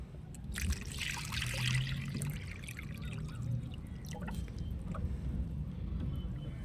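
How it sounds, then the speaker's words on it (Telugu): Water trickles and splashes steadily into a container, a continuous gurgling pour with faint outdoor background. "ఇప్పుడు దీని నిండా వాటర్ వేద్దాం ఫ్రెండ్స్"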